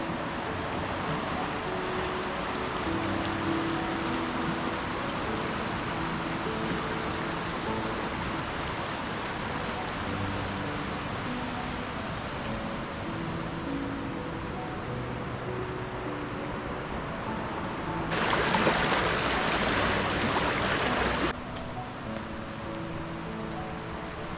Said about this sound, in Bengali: সব দিক থেকে বয়ে যাচ্ছে এরকম জলের ধারা